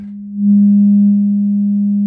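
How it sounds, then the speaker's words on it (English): A steady, pure low sine wave test tone from a 1967 Fender Princeton Reverb amplifier's output hums continuously, swelling slightly louder after a moment and then holding even. "we're getting a nice clean sine wave at the output"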